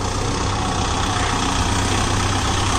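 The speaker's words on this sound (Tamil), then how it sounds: "இது வந்து புது டிராக்டருங்க." A new Kubota MU5502 tractor idles steadily and loudly, its diesel engine giving a dense, unbroken rumble from start to end with no speech.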